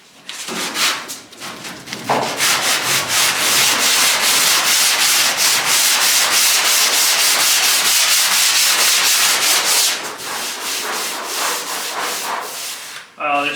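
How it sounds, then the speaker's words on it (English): A sanding block drags sandpaper back and forth over Bondo body filler on a truck bedside, giving a loud, close, steady rasp in quick rhythmic strokes that pauses briefly near the end. "Fighting with the sandpaper."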